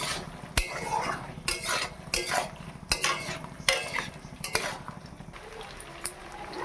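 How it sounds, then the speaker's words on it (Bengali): Mutton and raw potatoes are sautéed in a pot, with a spoon scraping and clanking against the metal in a steady rhythm over a light sizzle. "কাঁচা আলু দিয়ে এটাকেও আমি এবার 15 মিনিট কষিয়ে নেব ভালো করে।"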